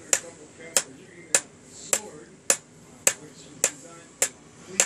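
Sharp metallic taps of a tilted hammer on a fine silver bangle strike at an even pace, about nine blows, each ringing briefly and bright against a quiet room.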